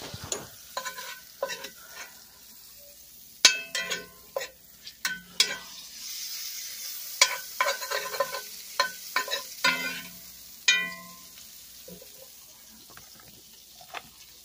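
Shrimp frying in a hot pan for a shrimp and steak burrito, with sizzling bursts and repeated scraping, stirring clatters against the pan at close range, no talking.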